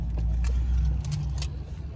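A Toyota Prado's engine coming to life, a low, steady rumble filling the cabin with a few faint clicks and jingles over it, settling into an even idle.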